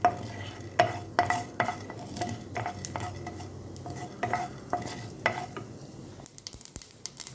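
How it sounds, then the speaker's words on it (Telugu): Mustard seeds, cumin, pepper, fenugreek, urad dal and chana dal frying in oil for a rasam tempering, crackling and sizzling close by with repeated clinks and scrapes of a spoon against the pan, no voices. "ఈ తాలింపు గింజలు, ఆవాలు, జీలకర్ర, మిరియాలు, కొంచెంగా మెంతులు, ఉద్దిపప్పు, శనగపప్పు ఇవన్నీ వేసి తాలింపు రెడీ చేసుకోవాలి."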